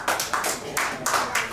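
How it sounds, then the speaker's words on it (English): A crowd claps in a quick, steady rhythm, the applause rising and falling in pulses and sounding somewhat distant. "Clap your hands."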